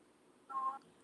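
A short electronic telephone tone of an incoming call rings out on a live morning talk broadcast, a single clear burst lasting about a third of a second against quiet room tone.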